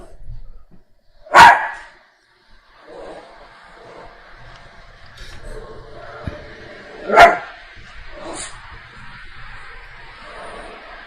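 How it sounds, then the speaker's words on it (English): Two sharp dog barks several seconds apart, fairly close, with faint background noise and rustling in between. "What is he barking at?"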